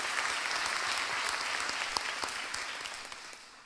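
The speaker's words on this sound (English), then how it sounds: "give you guys a round of applause, because we did it." A graduation ceremony audience gives a full, continuous round of applause for the class, many hands clapping at once, loud at first and fading gradually.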